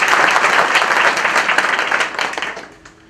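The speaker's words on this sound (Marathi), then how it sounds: "एकदा जोरदार टाळ्या बाबांसाठी झाल्या पाहिजे" An audience at a felicitation and birthday ceremony for a saint at Shri Kshetra Shivnai applauds loudly. Dense clapping keeps up steadily for about two seconds, then fades out.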